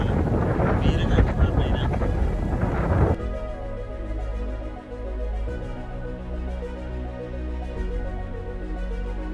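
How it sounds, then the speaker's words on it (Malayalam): Strong wind buffeting the microphone on a hill road on the Elappara–Kuttikkanam route near Vagamon, a loud roaring rumble for about three seconds before giving way to a quieter, steadier hum. "രക്ഷയില്ലാത്ത കാറ്റാണല്ലോ, തീരെ കാറ്റ്."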